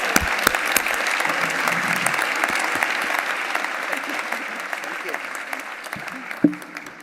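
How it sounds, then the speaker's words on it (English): Sustained audience applause at a women's achievers awards congress in 2015, dense steady clapping from a large hall crowd that carries on throughout with a sharper spike near the end. "A big round of applause."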